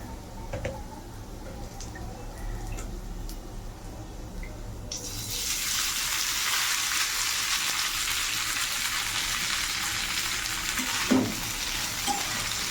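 Chow mein noodles go into a hot pan with already fried potatoes and onions seasoned with salt and turmeric. After a quiet start, a loud, continuous sizzle suddenly bursts in and carries on steadily.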